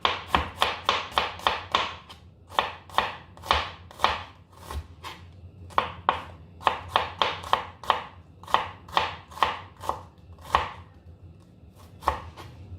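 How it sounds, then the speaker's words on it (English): Knife chopping shallots and spring onion on a cutting board, a quick run of sharp, close strokes in bursts with brief pauses, no voices. "Cut it into half, and then I'll slice it this way."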